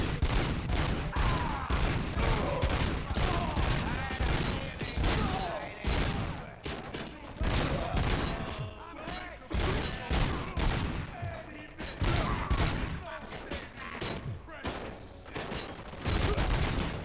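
Rapid bursts of gunfire from the video game RoboCop: Rogue City crackle almost nonstop, dense volleys with brief gaps, loud and close throughout.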